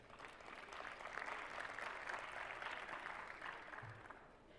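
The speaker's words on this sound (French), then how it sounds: "que je vous demande d'applaudir" At a plenary session on women in STEM, an audience applauds a Nobel Prize–winning medicine laureate, a soft, distant wash of steady clapping that swells and then fades out.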